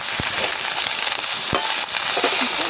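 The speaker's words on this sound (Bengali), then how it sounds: "ওই তেলেতে আমরা সবজিগুলো দিয়ে দিয়েছি সবজিগুলো আবার ভালো করে ভেজে নেব" Winter vegetables frying in oil in a pan, a continuous close sizzle with a few soft knocks of stirring scattered through.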